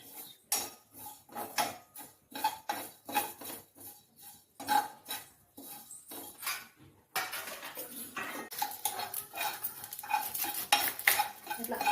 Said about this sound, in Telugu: స్టవ్ ఆన్ చేసుకొని నువ్వులు వేస్తుందండి